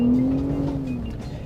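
A 2022 Hennessey VelociRaptor 600 pickup truck revs hard and slides through a corner on a loose gravel road, its engine note loud and close, then easing off over about a second and a half.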